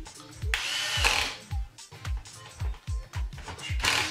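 A power driver sets screws back into a PS2 console during reassembly, giving short whirring bursts with clicking ratchet pulses in an uneven rhythm, heard up close.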